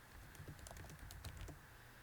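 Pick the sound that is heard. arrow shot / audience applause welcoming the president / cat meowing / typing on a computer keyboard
typing on a computer keyboard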